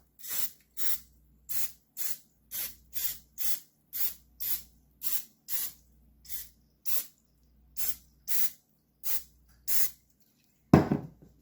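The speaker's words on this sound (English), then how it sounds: "I'm going to spray it with some cooking spray." About fifteen short hissing sprays of cooking spray into a hot skillet in a steady rhythm, each about half a second, followed by a louder sizzling burst at the end.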